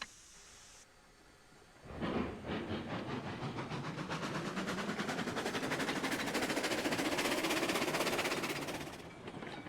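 A steam locomotive pulls away from a freight depot in the game Railroads Online, its rapid rhythmic chuffing starting suddenly, speeding up and growing loud and dense before easing off near the end, with no speech.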